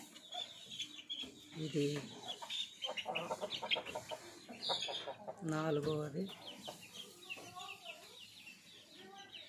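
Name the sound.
hen clucking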